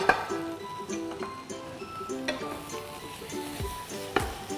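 Fried rice stir-fried in a pan as boiled corn is added, with a steady sizzle and repeated metallic clinks and scrapes of a spatula against the pan, close and alone.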